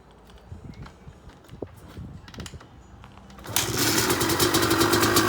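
A 2002 Honda CR250R two-stroke motorcycle is cold started with the choke on. A few kick and handling clunks come first, then the engine catches and settles into a loud, close, buzzing idle.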